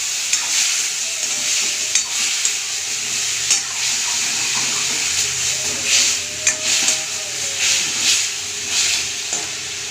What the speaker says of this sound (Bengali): এবার আমি এই মশলাটাকে ভালো করে কষে নেবো।